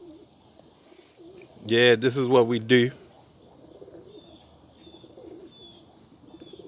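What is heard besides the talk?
young pigeons cooing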